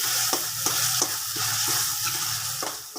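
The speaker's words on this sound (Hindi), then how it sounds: "अब हम इसकी मज़ीद 5 से 10 मिनट भुनाई करेंगे।" Onion masala with finely chopped green chillies fries in a pan for an egg curry, a steady close sizzle broken by regular scraping strokes of a spoon stirring through it, with no voices.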